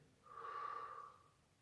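One slow, audible exhalation during a children's breathing-recovery exercise after physical activity, a breathy rush that swells and fades over about a second, close to the microphone.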